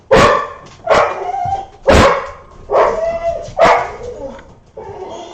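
A cur dog, shut indoors while stray dogs roam the yard, barks loudly and repeatedly, with about six forceful barks coming at a steady pace and mixed with whiny yelps.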